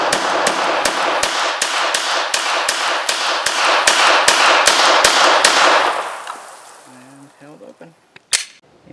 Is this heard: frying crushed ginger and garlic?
no